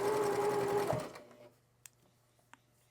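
Sewing machine stitching quilt seams runs steadily and close for about a second, then stops, followed by a quiet low hum and a couple of faint clicks.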